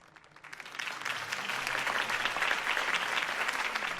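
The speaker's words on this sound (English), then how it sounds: "If only Mr. Wayne, my campaign's largest backer, could have heard that applause" A crowd applauds after a campaign speech in the video game Batman: The Telltale Series, the clapping swelling from quiet to a full, dense, steady roar within a second and holding.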